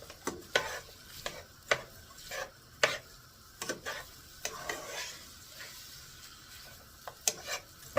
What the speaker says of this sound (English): I'm going to add my onions in there at the same time. And let them brown up as well.